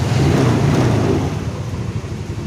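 Yamaha Mio Sporty motorcycle with weak electrics and frequent stalling, its engine kick-started into a rough, low idle that rumbles steadily close by and eases slightly partway through, with no talk.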